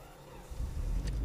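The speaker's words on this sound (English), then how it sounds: "start the car." A car engine starting in winter cranks and catches, its low rumble rising and settling into a steady idle close by.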